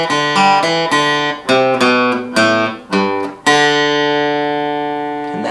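A guitar riff, a rhythmic run of plucked notes and short hits closing on a long ringing open fourth string, close and loud.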